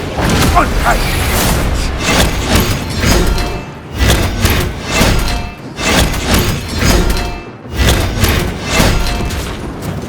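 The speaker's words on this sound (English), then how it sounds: "Rock grenade deployed." Rock grenade blasts in the Warhammer 40K Space Marine 2 video game land as repeated heavy booms and thuds, loud and close, amid ongoing battle noise.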